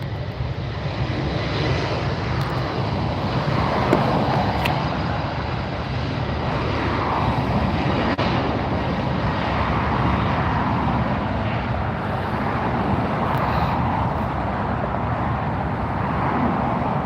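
An airliner departs LAX. Its jet engines make a loud, continuous roar that holds steady throughout, with no voices.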